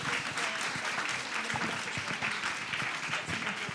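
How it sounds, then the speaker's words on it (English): Steady, moderately loud applause from a conference crowd thanking its speakers, with the clapping sustained evenly from start to finish. "Thank you very much for the speakers. A round of applause"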